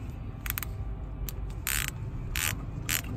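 A hand ratchet clicks while tightening a car's wheel hub assembly, with short bursts of rapid clicks followed by longer sweeps, close and fairly crisp over a low background hum.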